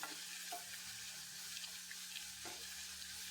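Onions fry in a clay pot with a steady, faint, hissing sizzle that runs throughout, with no talking.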